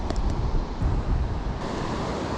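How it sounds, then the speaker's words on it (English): Steady, roaring wind buffets the microphone on a beach at Long Beach, South Australia, mixed with a broad wash like surf, continuous and loud with no voices. "I'll take my hat off, it's getting too windy."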